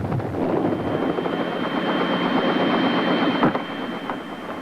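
Aircraft in flight to Mount Redoubt volcano in Alaska: a loud, steady engine drone with a rotor-like throb fills the cabin continuously and dips slightly near the end, with no talk.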